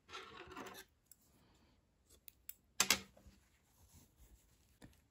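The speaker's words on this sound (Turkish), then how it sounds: "İpliği kesiyorum." Scissors cut crochet yarn with a few sharp snips and clicks at close range, set among soft handling rustles in an otherwise quiet room.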